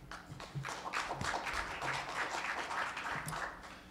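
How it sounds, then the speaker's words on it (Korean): An audience at the Smart TV Global Summit 2012 conference claps to welcome a speaker, a dense, steady patter of applause that stays at a moderate level throughout. "박수로 환영해 주시기 바랍니다"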